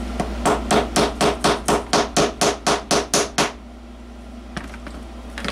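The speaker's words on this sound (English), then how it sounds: "find your hammer, a little small ball peen, something precision, tacking hammer, whatever" A small ball peen hammer taps metal in a quick, even series of about fourteen sharp strikes close by, then stops, leaving quiet with one faint knock.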